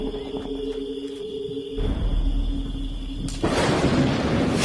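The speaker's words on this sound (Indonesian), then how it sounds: "suara petir terdengar begitu kencang" Loud thunder in a night storm starts as a low rumble, then builds in two sudden heavy surges of crashing, roaring sound, with no one speaking.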